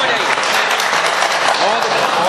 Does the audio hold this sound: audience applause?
yes